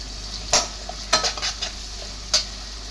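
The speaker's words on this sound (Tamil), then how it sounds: "இப்போ தக்காளி வெங்காயம் நல்லா வதங்கிடுச்சு, இஞ்சி பூண்டு பேஸ்ட் போட்டாச்சு" Onions and tomatoes sautéed with ginger garlic paste in a kadai crackle softly beneath a few sharp spoon scrapes and taps against the pan, close by, over a steady low hum.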